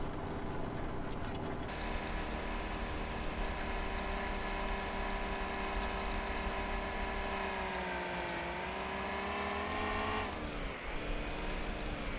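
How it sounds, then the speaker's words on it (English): A tractor engine drones steadily in Farming Simulator 17, holding a tonal hum with mechanical whine, then dipping and recovering in pitch as the load changes near the end. No one talks. "So we're getting our tractor stuck in right away."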